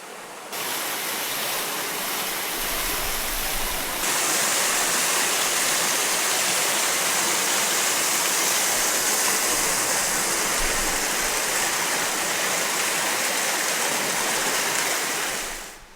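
Yeonsan waterfall at Naeyeonsan mountain in winter roars in a continuous, loud, broad rush of falling water, steady throughout with no voices.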